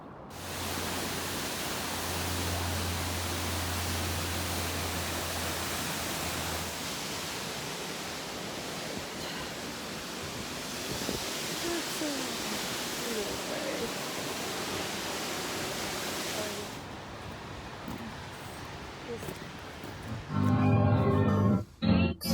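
A waterfall near Portland roars as a steady, broad rush of falling water that fills the scene for most of the clip, with wind buffeting and a brief low hum. Near the end, louder handling noise takes over.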